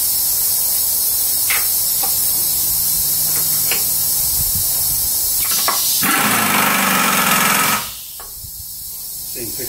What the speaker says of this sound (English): Now I'll use a mill to cut these things off to uniform angle and uniform length